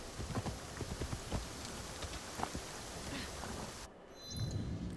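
Horse hooves in Assassin's Creed Shadows clop in a quick irregular rhythm under rain-like game ambience, fairly faint, with a brief change of scene near the end.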